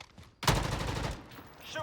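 A Grav gun in a video game fires one sudden loud burst that rings out and then fades over about a second, with a faint sound trailing after it.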